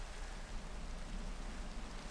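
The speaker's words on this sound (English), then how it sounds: "It rains so much." Steady rain falling in Minecraft, modded Enigmatica 2 Expert, a constant soft hiss of drops on surfaces with no other sounds, even and unbroken throughout.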